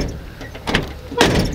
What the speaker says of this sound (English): the door opens well